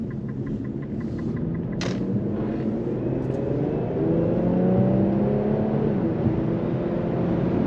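An Infiniti Q50 Red Sport 400 cruises on the road, heard from inside as a steady low engine and road rumble with smooth rising and falling tones as it accelerates, plus a brief sharp click.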